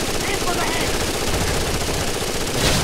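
Gunfire from a SCAR-H rifle and an MP5 submachine gun in the video game Rainbow Six Vegas 2, a dense, steady roar of rapid automatic shots that runs loud throughout and swells slightly near the end.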